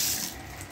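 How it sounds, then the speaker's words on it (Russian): Water flowing steadily from a tap in the bathroom of a compact rented new-build flat in Saint Petersburg, a brief continuous hiss heard close and alone. "Напор воды."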